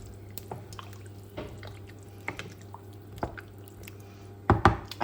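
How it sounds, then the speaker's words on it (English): Vegetable stock stirred into a pan for broccoli and stilton soup gives quiet wet sloshing with a few soft squelches and clinks, then a louder splashy burst near the end, close and without voices. "we are just going to add in a litre of vegetable stock to the pan. Give that a good stir."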